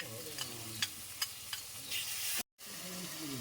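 Ground tomato paste sizzles and fries in a pan with spices for a prawn and pointed gourd curry, a steady hiss punctuated by several sharp stirring scrapes, then a momentary dropout before the frying resumes.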